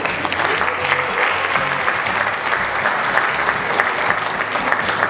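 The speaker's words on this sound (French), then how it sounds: "je voudrais que vous vous applaudissiez d'abord" An audience applauds at the Africa Dubai Business Award ceremony in Dubai, with steady, dense clapping throughout that fills the room at a consistent level.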